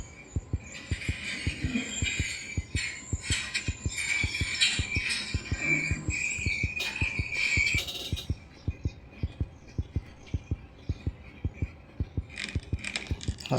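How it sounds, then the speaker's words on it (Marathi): Rapid heartbeat effect from the horror video game Granny 3, steady fast thumps repeating throughout, with faint game hum and jangling clinks above. "हार्टबीट तेज होऊन गेले एकदम"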